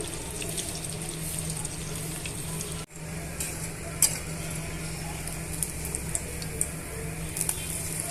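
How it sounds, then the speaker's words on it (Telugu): Egg-dipped bread slices frying in a hot pan give a dense, even sizzle throughout, with a brief dropout near the start and a light clink of a utensil later, heard close and without talk. "బ్రెడ్ స్లైసెస్ని ఇందాక మనం తయారు చేసుకున్న మిశ్రమంలో డిప్ చేసుకొని వేసుకోవాలండి ఇలా వేసుకోవాలి ఇలా వేసుకొని ఫ్రై చేసుకోవాలి"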